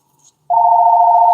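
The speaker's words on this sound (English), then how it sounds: "hold on, guys, phone call." A telephone sounds with a steady electronic tone that starts abruptly after a brief faint click and holds loud and unbroken to the end, more like a single ring or signal tone than a bell.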